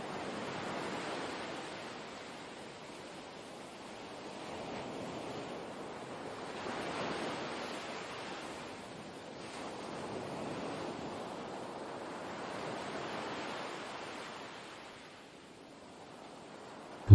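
Sea waves wash onto a calm shore of clear water, a steady broadband surf that swells and recedes in slow, even cycles, with light wind noise and no voices.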